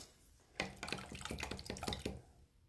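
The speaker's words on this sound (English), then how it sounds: "I'm going to add a little water to it just to get it to flow." Water trickles and drips into paint being mixed for Chinese painting, a close, soft run of small splashes and bubbly drips lasting about a second and a half before fading to quiet.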